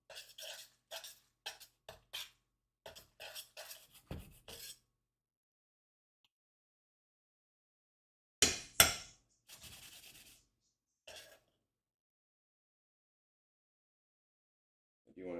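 Stirring cacio e pepe pasta in a pan, quiet bursts of scraping and rubbing with occasional soft clinks, coming in short separated strokes with silent gaps between.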